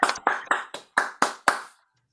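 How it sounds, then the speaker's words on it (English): Hands clap for a poet at an online poetry open mic: seven distinct, evenly spaced claps heard close and clear, followed by silence. "One more big round of applause"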